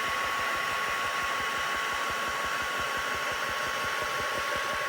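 Heat tool drying ink on a stamped card makes a steady, loud blowing whir with a low pulsing motor hum, constant and uninterrupted throughout, with no voices.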